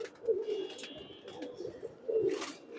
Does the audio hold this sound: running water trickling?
no